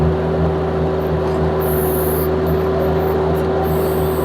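A Vermeer mini skid steer fitted with an auger drives slowly forward, a loud steady engine drone with a strong hum, close by and continuous.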